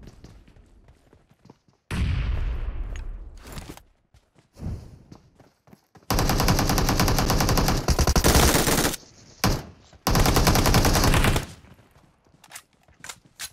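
Bursts of automatic gunfire ring out in a battle royale video game, with several loud sustained volleys separated by quieter gaps with scattered shots.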